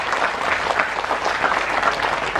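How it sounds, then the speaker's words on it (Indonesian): Audience applause for a regional champion choir at a campus orientation event, a dense steady wash of many hands clapping at even loudness throughout, with no voices standing out. "Tepuk tangan."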